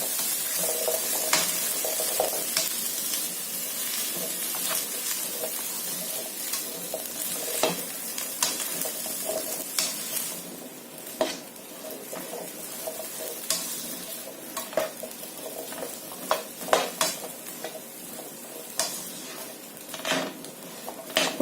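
Chana chaat being stirred in a pan with ground masala on a stove: a continuous soft sizzle with repeated scraping of a spoon against the metal, close and steady, without talk.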